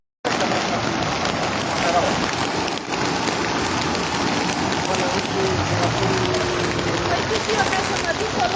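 Heavy rain pours steadily during flooding in Craiova, Romania, a dense, continuous hiss of drops hammering surfaces at close range, loud and unbroken throughout.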